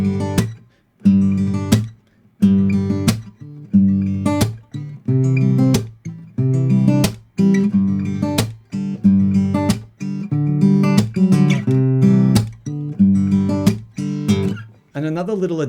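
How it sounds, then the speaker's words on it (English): Steady acoustic guitar fingerpicked forward roll, punctuated by sharp percussive smacks of the heel of the hand hitting the strings at a regular beat, played alone. "It's the sound of the heel of our hand smacking against the strings in a"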